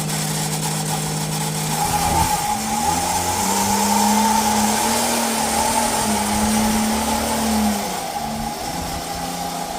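A tiny campervan's small engine drones steadily and strains as the car drives up a trailer ramp, with the pitch dipping briefly, then rising and holding under a constant high hiss.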